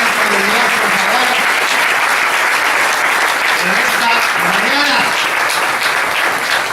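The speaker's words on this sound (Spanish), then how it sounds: "Den un aplauso al Espíritu Santo de Dios" A church congregation in Chinú, Córdoba claps in loud, sustained applause that fills the room, while a voice carries on over the clapping.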